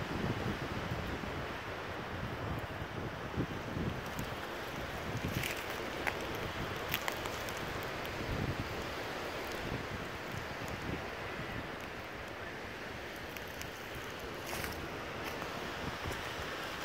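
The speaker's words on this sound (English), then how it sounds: "You can probably hear the wind." Strong wind blows steadily outdoors at a camp, a dense broadband roar with gusty rumble and buffeting on the microphone, continuous and loud for the whole stretch with no talking.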